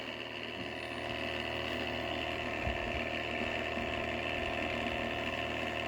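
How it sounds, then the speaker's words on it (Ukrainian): A pump runs steadily, close and continuous, as it fills a LOVOL P4110 tractor tyre with liquid ballast, giving a mechanical ratcheting drone with a low engine-like hum and no talking. "Все, вмикаю і починає закачувати."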